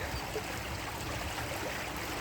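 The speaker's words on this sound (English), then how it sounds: "you've got the water washing down here" Water washing down a stream outdoors in a natural setting, a steady broadband rush and trickle heard alone at moderate level throughout.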